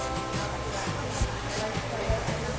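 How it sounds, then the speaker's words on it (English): A Repechage Hydra Dew Smoothing Toner Spray mists a face as a setting spray for prom makeup, about four short, evenly spaced hissing puffs over a steady background. "just a few sprays, and that'll just keep everything matte"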